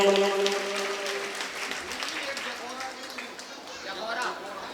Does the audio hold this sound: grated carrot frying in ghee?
no